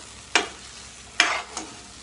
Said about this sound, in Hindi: मसाला बीच बीच में चम्मच हिलाते रहेंगे।